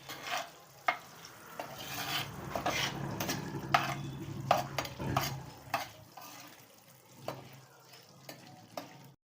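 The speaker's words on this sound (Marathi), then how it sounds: "परतून घ्यायचं व्यवस्थित।" Whole spices, including bay leaf, cardamom and a few cloves, sizzle softly in a pan while a spoon stirs and scrapes them, with scattered clinks and scrapes of metal over a low fry.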